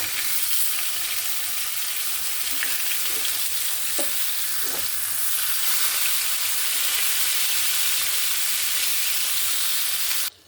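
Pieces of catla fish fry in oil in a pan, giving a loud, steady sizzle with occasional pops and crackles up close, continuing without a break until it cuts off at the end.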